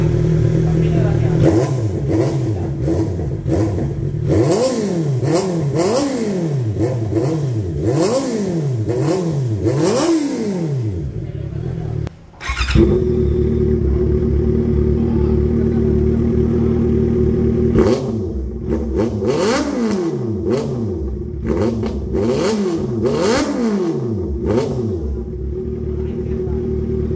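Motorcycle fitted with a carbon Extreme exhaust and silencer, revving repeatedly in rising and falling bursts, loud and close, with a brief pause midway and a steady idle between rev runs; no talk over it.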